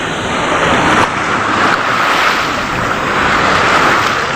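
Strong sea waves surge and crash close by with heavy, continuous roaring wash and gusty wind buffeting the microphone, swelling and easing in loud pulses.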